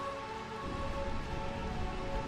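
Steady rain pours down in Burmecia, the realm of eternal rain in Final Fantasy IX, a continuous dense hiss of falling water with a faint tonal backdrop and no voices.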